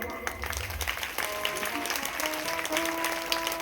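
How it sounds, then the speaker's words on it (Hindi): An audience claps steadily at the close of a Shreemad Bhagwat katha religious discourse. The dense applause runs throughout, with sustained musical tones and some voice underneath. "एक बार आप सब लोग अपने लिए तालियां बजाएं।"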